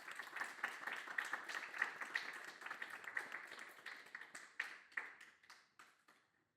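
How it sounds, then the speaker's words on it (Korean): An audience at a university student success-story presentation and awards ceremony applauds to welcome a student presenter. The clapping is fairly distant and scattered, and it thins out and tapers away over about six seconds. "큰 박수로 맞이해 주시기 바랍니다"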